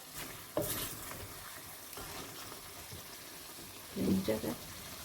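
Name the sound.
frying chicken and potatoes in a pan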